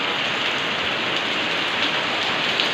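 Heavy rain pouring steadily near a riverside, a dense, loud, continuous hiss of drops drumming on surfaces with no pauses.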